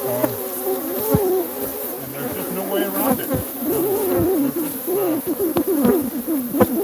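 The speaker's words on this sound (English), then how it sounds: "We got mean bees." Swarm of angry bees pouring out, a dense buzzing drone with wavering pitch filling the scene close by, as a person speaks briefly over it.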